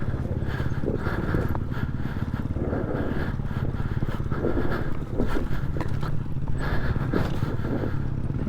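An enduro motorcycle descends a very steep dirt track, its engine burbling low and steady throughout with scattered knocks and crunches from the terrain, no talk.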